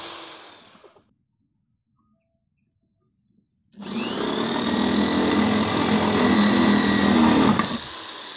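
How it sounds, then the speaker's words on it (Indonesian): An electric drill bores into lightweight steel, starting suddenly after a quiet pause and running loud and steady with a grinding whine for about four seconds, then cutting off. "Nah, satu lagi, belakang satu bor lagi."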